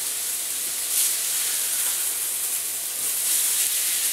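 Thick steaks sizzle on an indoor grill, a steady, bright hiss that stays constant and fairly close, with no voices.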